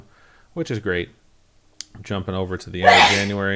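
A single loud, close sneeze bursts out near the end, right after a stretch of a person talking.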